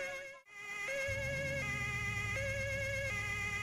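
A police car siren in the GTA IV LCPD:FR mod wails on steady, stepping pitch tones, joined after a brief dip by a low rumbling engine drone that continues beneath it.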